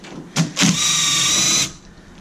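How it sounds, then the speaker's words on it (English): A short whirring burst from a Makita electric impact drill with an 8mm socket, preceded by two quick mechanical clicks, loud and close. "We got the 8mm socket with electric Makita drill impact."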